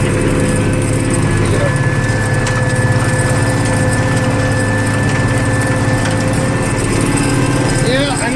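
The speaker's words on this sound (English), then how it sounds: "this thing's been pulling like a honey badger out in this slick snow" A tractor engine drones steadily while pulling a small chisel plow through slick snow, loud and continuous for the whole stretch, with rumbling low mechanical noise and no pauses.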